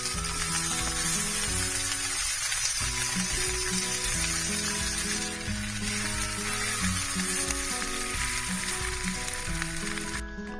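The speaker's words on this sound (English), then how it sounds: "throw in the baby spinach. Not for long, just till it wilts." Baby spinach wilting in hot bacon fat in a pan, giving a loud, continuous close-up sizzle that holds steady throughout, with no voices.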